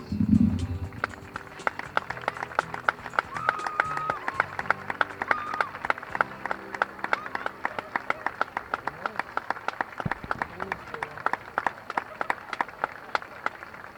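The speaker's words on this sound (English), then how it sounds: "offer a round of applause" Applause from a girls soccer crowd on a breast cancer awareness night, many hands clapping in a sustained, dense patter with a few louder nearby claps, a brief low voice at the start.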